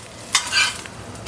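Dosa cooking in a pan, with a soft sizzle and brief scraping or stirring sounds from a spatula, two sharper scrapes standing out against a quiet background.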